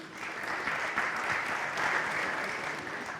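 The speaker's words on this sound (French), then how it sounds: "c'est Clément Ackermann de Storengy que l'on applaudit" Steady applause from a conference audience at a hydrogen and methanation event, dense even clapping at moderate distance welcoming a guest speaker, without shouts or talk.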